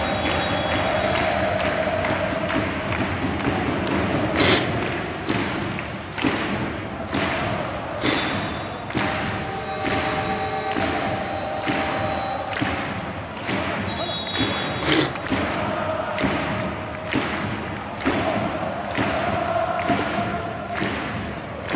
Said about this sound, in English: I don't know if you heard that crowd, but that was just absolutely phenomenal